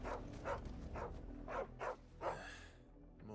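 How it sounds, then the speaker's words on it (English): A dog in Final Fantasy 16 barks repeatedly, about six sharp barks in an uneven rhythm at moderate distance, fading out at the end. "No, that's a dog."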